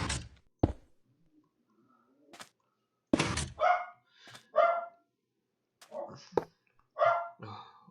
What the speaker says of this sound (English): excuse me for 2 seconds while I calm this dog